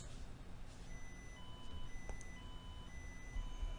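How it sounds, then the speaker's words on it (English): A default alarm tone from VTScada industrial control software, triggered from a PLC, repeats as a series of steady electronic beeps over a low background hum, with no one speaking. "it plays a default alarm"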